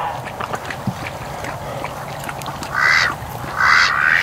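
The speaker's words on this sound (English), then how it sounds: "some seriously relaxed ducks" A group of ducks outdoors in mild winter weather lets out loud raspy quacks in two close bursts near the end, after a quieter stretch of soft outdoor ambience.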